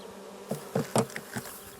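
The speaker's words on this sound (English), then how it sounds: "We take the swarm of bees and give them a new home in a nuke box with 6 frames." A swarm of honey bees being rehoused in a six-frame nuc box gives off a few short, close buzzing bursts over quiet background.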